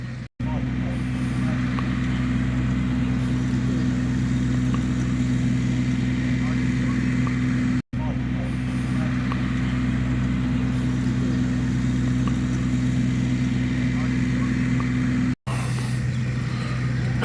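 A steady low tractor engine drone runs throughout at a cricket ground, loud and close, like a tractor driving along, with a few brief dropouts.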